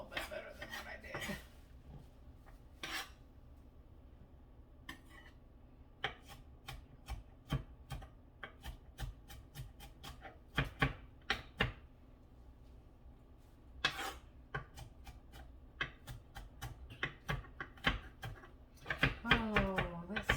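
Knife chopping tomatoes on a cutting board for pico de gallo: a run of sharp, close taps in uneven rhythm, some quick bursts and brief pauses, with faint dish clatter.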